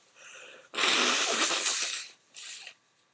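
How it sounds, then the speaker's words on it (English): A single loud, close sneeze bursts out with a sharp explosive hiss, followed by a brief trailing breath. "I have to sneeze."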